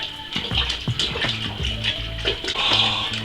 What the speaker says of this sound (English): I'm now going to use my stirry spoon to stir in all the honey